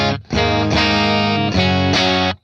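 Clean electric guitar played through a Blackstar St James plugin set to its 6L6 amp, with slightly scooped American tone; a few strummed chords ring out one after another, full and sustained, with nothing else heard.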